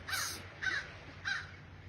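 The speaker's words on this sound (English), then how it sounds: "There's a crow up there." A crow caws three times at an outdoor barbecue competition, the calls evenly spaced and moderately distant, with no speech.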